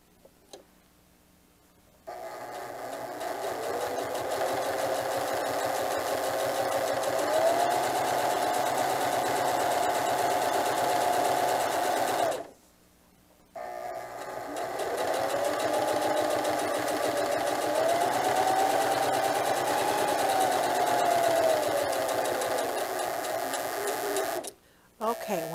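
A sewing machine stitches a diaper bag tote in two long, steady runs of even motor hum and needle clatter, broken by a brief stop and ending abruptly, with a voice talking over the whirring.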